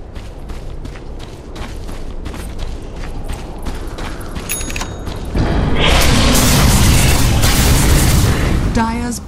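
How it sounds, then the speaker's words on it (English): Dota 2 combat at the Dire bottom tower: a dense, loud barrage of booming impacts and clattering hits, swelling into a sustained roar of explosions in the second half, with a game announcer voice heard. "Dire's bottom tower is under attack."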